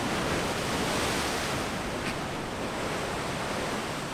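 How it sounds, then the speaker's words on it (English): Ocean surf rolls in with the incoming tide, a steady, loud, broadband wash of waves with no gaps, mixed with some wind noise. "The tide's coming in, it's pretty scary."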